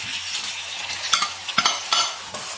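Tomatoes and green chilies are stirred into onion and ginger-garlic paste frying in a pan, with a steady sizzle under repeated scrapes and clinks of a spoon against the pot.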